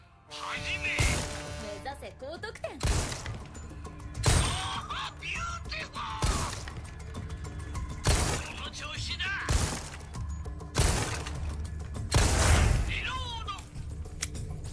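Pistol shots at a shooting range in the video game Resident Evil 4, sharp, loud reports firing one after another at an uneven pace, about a dozen in all, with someone talking between and over them.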